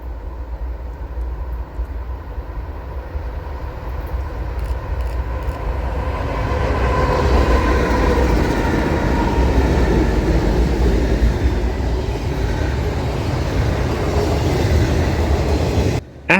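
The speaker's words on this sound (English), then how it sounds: "Our last catch of the day is NS Train 202, an intermodal and autorack equipment move" NS Train 202, a Norfolk Southern intermodal and autorack freight with NS 4002 trailing second, passes on the Fort Wayne Line. A low rumble builds into a loud, sustained rolling roar of cars going by close.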